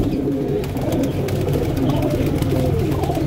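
Flying pigeons kept for sale coo in a steady low murmur, several birds close by calling continuously without pause.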